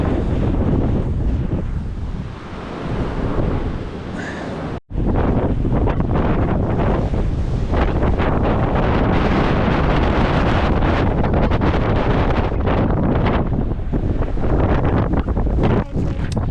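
Strong coastal wind at Kairakau beach buffeting the microphone in a continuous loud roar, with possible surf mixed in underneath and a brief dropout midway.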